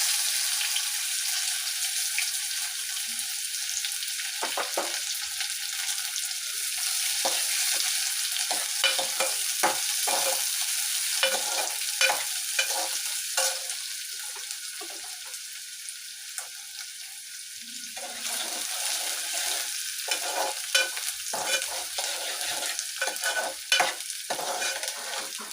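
A green chili and a large onion fry in hot oil, a steady hiss of sizzling broken by repeated scraping knocks of a spoon stirring them in the pan, close and continuous.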